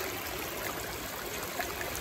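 Water from a backyard negative-edge waterfall trickles and leaks under rocks, a steady, soft, continuous running flow close by with no other sounds.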